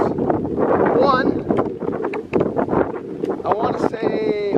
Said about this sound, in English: Holy cow, it's windy.